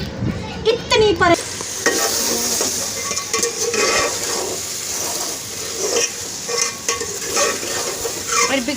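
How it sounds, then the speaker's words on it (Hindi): Taro root (arbi) frying in a pan, a loud, close sizzle under repeated scraping and stirring strokes of a spoon against the pan, with a few light clinks. "अरबी को हम भून रहे हैं।"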